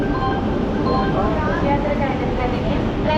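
Patna train arriving at Varanasi station, a steady loud rumble of rolling carriages close by, continuous throughout with people talking over it.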